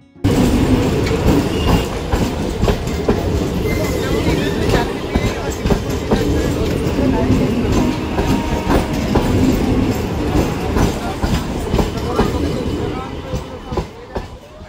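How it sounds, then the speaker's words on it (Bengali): Kolkata Circular Railway train rolls past Princep Ghat, a loud, sustained rumble with rhythmic clickety-clack of wheels on rail joints, close by and fading slightly at the end. "প্রিন্সেপ ঘাটের পাশ দিয়েই চলেছে চক্ররেল।"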